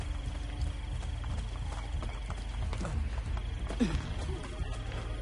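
Horse hooves clip-clop steadily in Assassin's Creed Brotherhood, fairly quiet under a low ambient game backdrop, with a brief whinny partway through.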